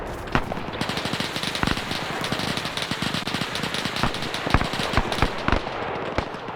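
Machine gun fire from a pack gun in a WW2 video game: dense, rapid bursts of loud gunshots crackling almost continuously, with scattered sharper reports over a busy battle din.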